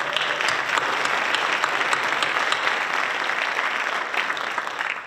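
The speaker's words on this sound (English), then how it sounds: "Give her a round of applause." Steady, dense applause from an audience at a city inauguration ceremony, loud and sustained for the whole stretch with no break, easing only slightly near the end.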